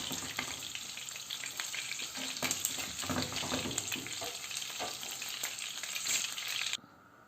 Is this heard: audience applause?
no